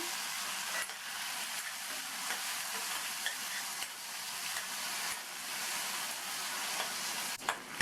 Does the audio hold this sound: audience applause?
no